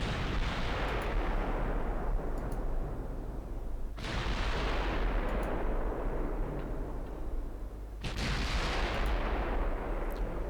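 Heavy naval guns boom in the video game Ultimate Admiral Dreadnoughts, three deep blasts spaced about four seconds apart, each rolling into a long rumbling decay over continuous low battle ambience.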